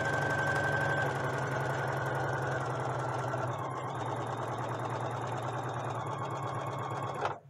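Brother sewing machine running a long straight stitch at length 5.0, a fast steady mechanical whirring and chattering that holds for about seven seconds before stopping abruptly.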